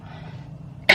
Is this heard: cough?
yes